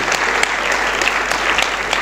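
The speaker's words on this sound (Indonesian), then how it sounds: "Ya, boleh beri tepuk tangan." A church congregation at an Unleavened Bread festival service claps together, dense continuous applause close and loud for the whole span.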